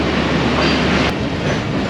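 The Mianwali Express passenger train pulls out of Shaheenabad railway station with a steady loud rumble of wheels and carriages, a continuous close roar with a faint rhythmic clatter and no talking.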